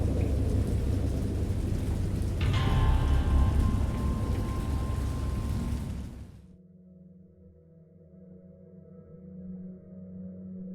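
Heavy rain pours with deep rolling thunder underneath, then abruptly gives way to a quiet low hum.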